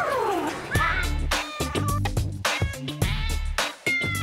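Kittens at a Seattle Animal Shelter event give several high, bright meows over busy background chatter and children's voices.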